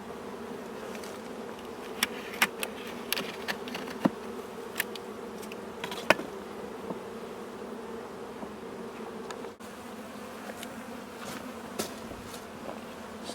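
Steady droning buzz of many honeybees during a transfer from a Langstroth hive into a top bar hive, continuous and close, with occasional sharp knocks and clicks of handling the woodwork.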